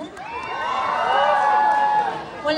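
Crowd at a gay pageant national costume event in Quiapo shouting and cheering in a sustained, swelling roar that rises and holds, moderately close and loud.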